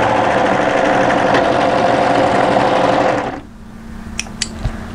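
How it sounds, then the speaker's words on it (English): An overlocker stitches and trims excess threads on a sweater sleeve cuff, a fast, loud mechanical whirr that runs steadily for about three seconds, then stops, followed by a few small clicks. "do let that overlocker cut off those excess threads"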